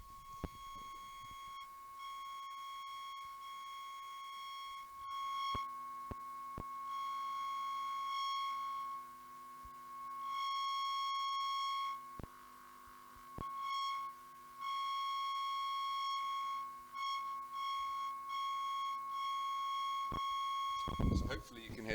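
A steady electronic tone from a microwave receiver swells and fades in loudness in repeated steps as interference produces maxima and minima, alone and without talk.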